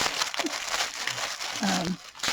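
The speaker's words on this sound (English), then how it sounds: "So excuse all the crinkling." Plastic packaging from a parcel of happy mail crinkles and rustles in short bursts close by while it is opened, with a faint voice in places.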